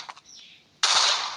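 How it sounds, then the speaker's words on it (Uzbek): A bomb explodes in the Minecraft video game: a sudden loud burst of broadband noise that holds steady as a dense roar to the end, after a few faint chirps and softer game sounds. "Bomba portlaydi hozir"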